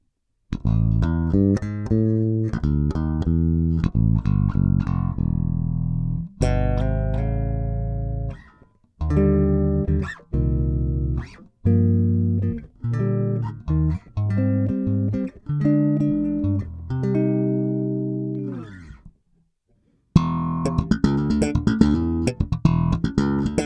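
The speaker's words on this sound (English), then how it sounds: "So this is what the bass sounds like out of the box" A Bogart Broadsword electric bass guitar played alone with a clean, unprocessed, flat-EQ tone: a run of plucked notes and short riffs, loud and close, with a brief pause near the end.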